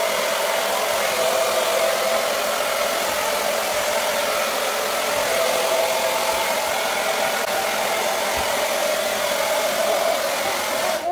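A hair dryer runs steadily and close up for the whole stretch, drying the glue under a lace front wig, a constant even whoosh with a faint motor hum and no talking.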